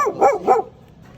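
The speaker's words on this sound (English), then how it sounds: "Your dog is gonna bite me." A dog outdoors on a morning walk gives two or three quick, loud, close barks in succession, then falls quiet.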